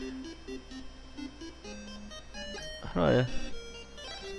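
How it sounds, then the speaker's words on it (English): The alarm flute in the Nintendo game Crystalis plays as a short chiptune melody of bright, clipped notes, and then a voice briefly cuts in over it. "Use the alarm flute. It never fails."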